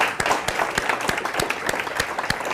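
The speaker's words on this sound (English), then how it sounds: "give them a huge round of applause" Conference audience at a live tech meetup applauding, a dense run of sharp overlapping claps at a steady pace, close and fairly loud, with no talk.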